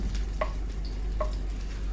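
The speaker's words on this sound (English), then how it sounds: "what we're gonna do now is to fry the onion, the shallots" Onions and shallots frying in a pan until golden, a low, steady background sizzle with a couple of faint clinks of a utensil, no talking.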